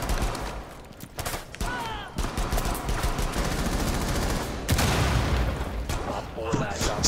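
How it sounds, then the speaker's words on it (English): Gunfire in a Rainbow Six Siege match: repeated bursts of shots and sustained rapid fire, loud and close, with heavier blasts midway, running throughout alongside game noise. "where those gunshots are coming from"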